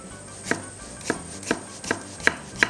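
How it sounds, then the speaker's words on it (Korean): A kitchen knife chops an aged Korean cucumber (nogak) into thick pieces for doenjang stew, six crisp, evenly spaced strikes against a cutting board, close and clear with no talking. "그래서 써실 때는 살짝 두툼하게 썰어서 준비해주세요"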